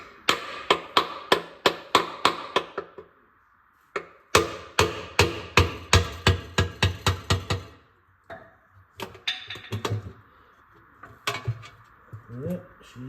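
A hammer taps sheet-metal tinwork on a Massey Ferguson 168 tractor. It lands in fast, sharp, ringing bursts with short pauses between them, close by and loud, and a voice is faintly present.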